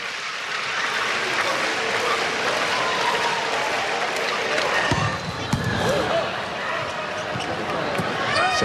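A crowd cheers and applauds at an NCAA men's volleyball match between Cal State Northridge and Hawaii. The steady, broad roar is broken by sharp ball thuds, and a commentator talks over it.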